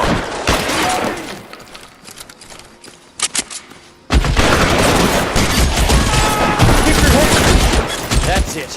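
Loud gunfire in L.A. Noire, with a few sharp scattered shots followed by a dense, sustained volley of rapid fire and impacts.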